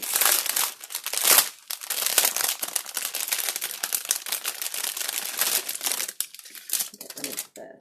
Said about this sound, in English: Get rid of the cellophane here.